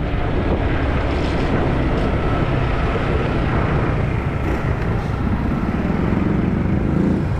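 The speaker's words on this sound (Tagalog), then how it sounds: "yung isang motor ay dinadrive ni Promel, no?" Motorcycle engine running steadily up close, a continuous broadband rumble with no pauses and no voices.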